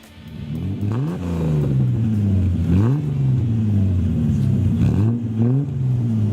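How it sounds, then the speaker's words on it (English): Several car engines rev and drive past, rising and falling in pitch, loud and continuous with overlapping passes close by; no talk. "You hear the sound of the motors all around. You hear the cars coming out of the speakers."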